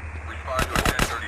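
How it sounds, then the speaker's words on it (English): Rapid bursts of gunfire from Grand Theft Auto San Andreas, three or four loud cracks in quick succession at close range, over a low steady game background hum. "Whoa, OG's shooting at me."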